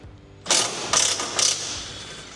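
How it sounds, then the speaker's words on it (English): A hand ratchet with an 18mm socket loosening the rear seat nuts on a Can-Am Maverick, three quick close bursts of clicking separated by short pauses. "we're going to use an 18mm socket to remove the rear nuts."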